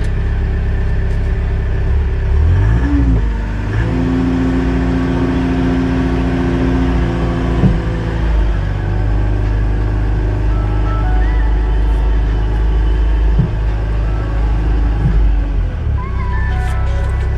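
An Ahlmann 5.5-tonne wheel loader with a combi bucket, on garden work, drives off with a loud, close diesel drone, its pitch rising and falling as the engine works, continuous throughout.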